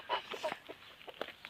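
Soft, scattered clucks from a few hens, including a Sussex and a broiler hen, short and irregular, fairly quiet with a little background noise.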